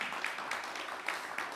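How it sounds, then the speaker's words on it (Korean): Faint, distant applause from an audience at the opening of the Korea-US Industrial Cooperation Conference, a soft, even patter of many hands. "다시 한번 큰 박수 보내주십시오"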